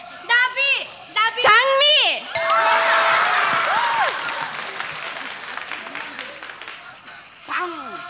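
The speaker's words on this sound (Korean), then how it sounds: "박수 주세요" Studio audience applause on a Korean family game show during a whisper-relay round, bursts of clapping mixed with excited children's and contestants' shouts and voices over a busy crowd.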